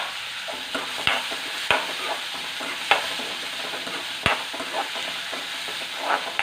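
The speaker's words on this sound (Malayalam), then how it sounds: "ആ എണ്ണയ്ക്കകത്തോട്ട് തന്നെ നമ്മൾ ഇതെല്ലാം വഴറ്റുവാണേ. ഇതിലോട്ട് നമ്മൾ വെളുത്തുള്ളി ഇടുന്നേ." Garlic sautéing in hot oil, a steady close sizzle punctuated by sharp scraping strokes of a spoon against the pan every second or so.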